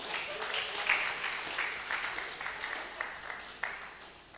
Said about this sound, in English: clap for them as they come forward.